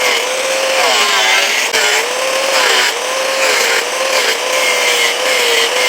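An old grinder cuts through a PVC sheet, giving a loud, steady whine that wavers slightly in pitch as the blade loads and eases, with a brief dip partway through and no talk.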